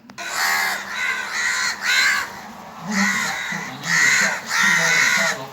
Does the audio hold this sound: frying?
no